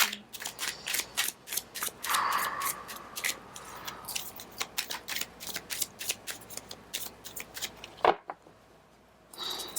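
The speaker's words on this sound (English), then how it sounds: "Sorry, I know, lots of shuffling." Tarot cards shuffled by hand in quick, crisp riffles and flicks, close and fairly loud, running in bursts for about ten seconds with a short pause near the end and no speech.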